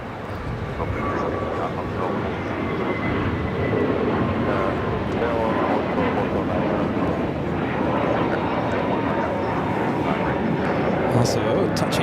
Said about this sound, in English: Fiji 810 about to land here on 25 left. This flight coming in from Nandi on that A350-900